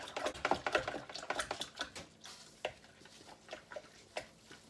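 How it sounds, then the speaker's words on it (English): A spoon stirs sugar into liquid in a bowl, giving soft, irregular scraping and light clinks that are busiest at first, then thin out to scattered taps, fairly quiet and close. "Need to add the sugar. I'm going to stir it in."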